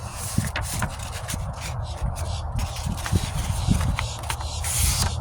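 A sheet of 1200 grit wet-sanding paper is folded into thirds by hand, giving close, continuous papery rubbing and crinkling with a few sharper creases throughout.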